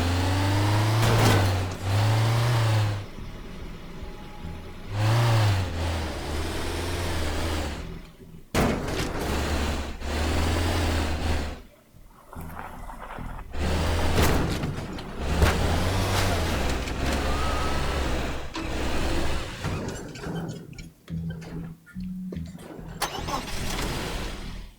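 Car from the Teardown video game driving and ramming its way through obstacles, a loud mid-pitched engine roar with revving bursts and crunching impacts in repeated surges, broken by short gaps.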